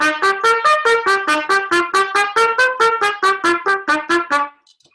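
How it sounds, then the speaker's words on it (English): A trumpet plays a quick run of crisply separated notes, each sharply tongued with a hard "ta" attack and brief gaps between them, loud and close. "If you play ta ta ta, it sounds like this."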